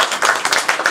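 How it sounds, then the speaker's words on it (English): A small audience claps for a student at an Ayurvedic skin care session, a brief burst of close, fairly loud hand claps with no talking. "Can we give a clap to my student?"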